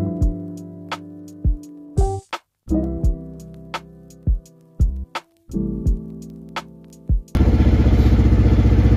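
A Polaris Ranger UTV engine, warmed up and running irregularly, sputters in uneven bursts with gaps between them, then settles into a steady buzzing idle near the end.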